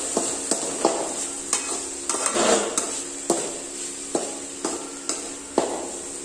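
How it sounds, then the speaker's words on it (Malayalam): Tomato thoran mixture with ground pepper being stirred in a pan, rhythmic scraping strokes of a spoon against the metal roughly every half second over a low sizzle, close and clear. "ഇനി ഇതെല്ലാം കൂടി നമുക്കൊന്ന് മിക്സ് ചെയ്തു കൊടുക്കാം"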